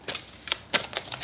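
Tarot cards being shuffled by hand, several quick papery riffles and flicks in an irregular rhythm, close and fairly quiet with no talking.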